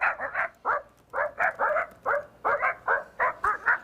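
A man imitates a pack of neighborhood dogs barking, voicing a rapid series of short, yappy barks in uneven bursts, loud and close with no other sound.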